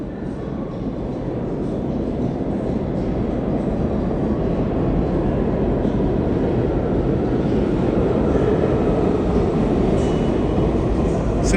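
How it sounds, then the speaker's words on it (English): A New York City subway train (A, C or G line) rumbles steadily past at close range at Hoyt-Schermerhorn Street station in Downtown Brooklyn, a dense continuous roar with a faint rattle that holds level for the whole stretch. "So the AC and the G train runs here."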